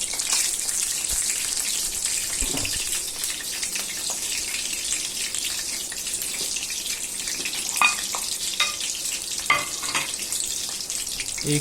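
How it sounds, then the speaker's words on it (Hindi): Potato rolls frying one by one in hot oil in a pan, a steady hissing sizzle throughout with a few brief pops and crackles, close and even, no talking. "अब इसमें हम अपने पोटैटो रोल फ्राई करते हैं वन बाय वन।"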